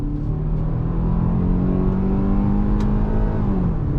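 A 2022 Hyundai Tucson compact SUV accelerates under throttle, its engine holding a steady, rising drone heard from inside the cabin, even and continuous with no talk.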